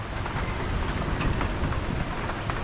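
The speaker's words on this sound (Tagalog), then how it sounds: "Payong tayo dahil lakas yung ambon" Light drizzle patters steadily by the sea during a typhoon, a soft continuous hiss of fine drops falling on surfaces, with no voices.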